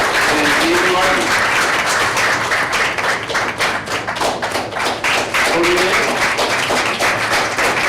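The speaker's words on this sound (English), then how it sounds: "there was clapping and we couldn't hear their names" Loud, dense clapping fills a school board meeting room during a recognition of students, sustained throughout with sharp close hand claps standing out from the crowd.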